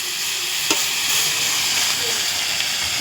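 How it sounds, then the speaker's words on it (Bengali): Salted fish frying in a pan give off a steady, close sizzling hiss of hot oil that stays even throughout, with a faint clink or two. "কীরকম লাল লাল করে ভাজা হয়ে যাচ্ছে।"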